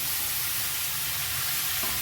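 Chicken roll filling with capsicum stir-fried in a pan gives a steady, close sizzle of frying, dense and unbroken for the whole stretch, with no talking.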